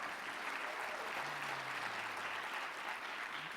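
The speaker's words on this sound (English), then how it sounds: "What about a round of applause for 168 years?" An audience at a choir gala claps steadily in a dense, sustained round of applause with no voices over it.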